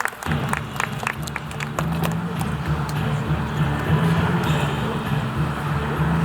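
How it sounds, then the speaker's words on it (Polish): An audience applauds fighters after a bout in a combat tournament, with a dense, sustained clatter of clapping and crowd noise that stays fairly loud throughout. "Tak, tak, wielkie brawa dla nich."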